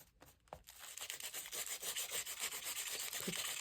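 Blue coloring medium being rubbed onto an art journal page, a steady close scratchy rubbing that builds after a few short strokes and continues without pause.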